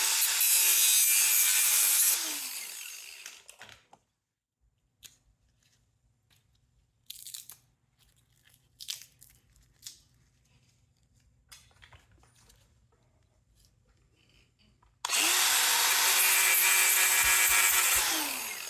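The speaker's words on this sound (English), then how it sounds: "I grind it, and it's copper" Copper wire stripped down to shiny metal with a grinder: two loud, sustained bursts of grinding at the start and end, with quieter handling clatter and scraping between them.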